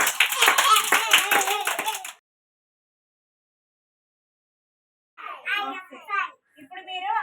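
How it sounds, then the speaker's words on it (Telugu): Children at an anganwadi clap their hands loudly in a quick, dense burst lasting about two seconds, then go silent before children's voices chatter nearby. "క్లాప్స్ కొట్టండి"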